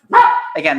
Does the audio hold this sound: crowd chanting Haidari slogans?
no